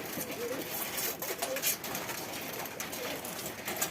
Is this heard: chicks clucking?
no